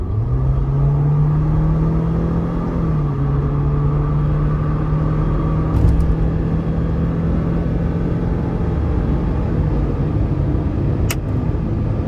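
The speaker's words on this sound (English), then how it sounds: "Let's give it some throttle here." 2023 Jeep Wrangler Rubicon 4xe with a 2.0-liter turbo engine accelerating, a loud steady drone from inside the cabin that climbs and settles under road rumble, continuous with no one talking.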